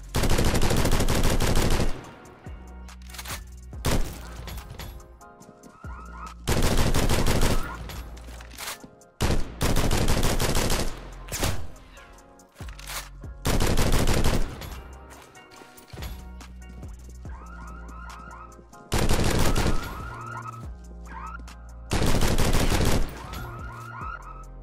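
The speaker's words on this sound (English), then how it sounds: "the SCAR is a really good gun, but it's pretty expensive" SCAR rifle firing in the Roblox game Criminality, several loud close bursts of automatic fire separated by short gaps with clicking and handling sounds between them, and no talking.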